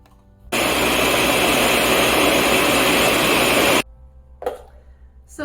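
A blender purees cashews, chilies, onions and garlic in one loud, steady whir of about three seconds that stops abruptly, followed by a brief clatter.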